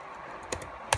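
Keystrokes on a computer keyboard while entering a command in Windows 7, heard as two brief, sharp clicks over a steady quiet hum with no voices.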